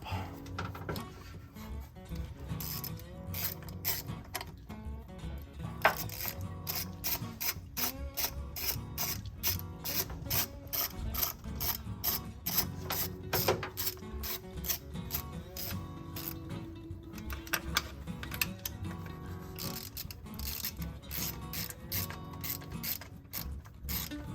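A hand ratchet tightening fasteners while someone works, a fast continuous run of close, crisp clicks that keeps going for the whole stretch, fairly quiet overall.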